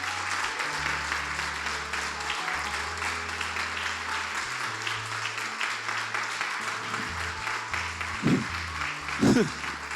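A church congregation claps during a service as sustained organ or keyboard chords play underneath, the applause a broad, moderate wash of many hands with a few sharper sounds near the end.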